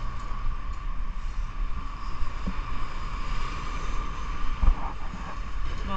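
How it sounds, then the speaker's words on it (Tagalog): Steady gusty wind buffets the microphone over the low, continuous wash of waves on the Japanese coast, with no talking. "Mahangin kaya maalon."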